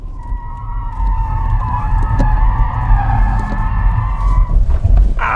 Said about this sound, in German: Ein Quattro, der so in den Drift geht in der Kurve, das ist schon echt hart.